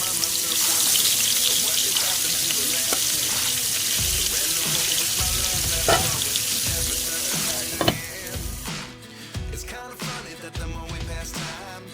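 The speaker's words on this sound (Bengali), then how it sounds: "গরম গরম মাছ ভাজা খেতে ভারী মজা" Fish frying in a hot pan in a home kitchen, giving a steady, close sizzling hiss throughout, with occasional clinks and clatters of utensils over the crackle.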